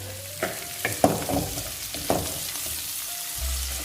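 Onions sauté in a pan for turkey berry thokku, giving a continuous sizzle with a few distinct stirring clinks and scrapes spaced through the short stretch, close and fairly loud.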